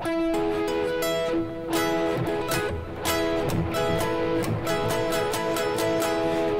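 Bright, sustained major chords on guitar ring out continuously with repeated strums and slight dips between them, no voices.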